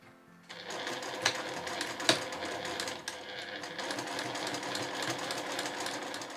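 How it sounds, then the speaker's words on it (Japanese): Sewing machine stitching down the middle of a fabric glasses case made from cut cloth, starting abruptly and running as a steady, close mechanical whir with a few sharper clicks along the way. "合わせたらここの真ん中のところを縫います。"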